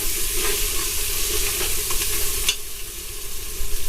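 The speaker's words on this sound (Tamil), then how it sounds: "இதையும் தக்காளியும் கொஞ்சம் நேரம் வதங்குறதுக்கு விடுங்க" Tomatoes sauté in a pan for mutton biryani, a loud close sizzle with stirring strokes that eases off partway through, and no voices.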